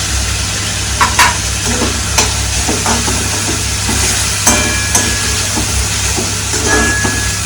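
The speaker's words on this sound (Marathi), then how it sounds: "आता मी हिंग घालते ह्याच्यात." Asafoetida hits hot oil in a pan for a prawn pickle, producing a loud, continuous close-up sizzle and hiss, with occasional spoon scrapes and knocks as it is stirred.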